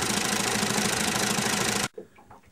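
An old engine with a reversing gearbox runs steadily with a loud, even mechanical chugging for about two seconds, then cuts off abruptly into quiet with faint knocks.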